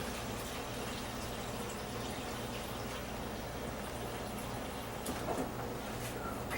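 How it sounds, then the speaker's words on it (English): Water running steadily from a tap into a container while preparing a Vitamix smoothie, a continuous close gushing hiss throughout with a faint clatter near the end. "I think I'm going to need more water, so I'm going to get a little bit more water."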